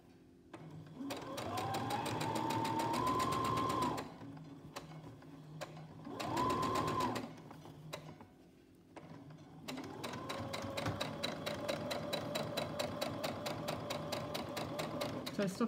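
A sewing machine stitches a fabric rhino mask in three close, steady bursts of motor whir, the last one longest, with short pauses and a voice speaking between and over them.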